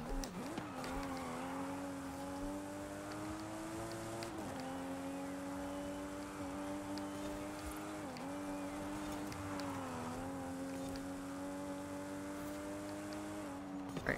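A 2020 Toyota Supra racing in Forza Horizon 5: a steady, fairly quiet engine drone that holds its pitch, with a few dips and climbs as the car shifts gear and works through corners.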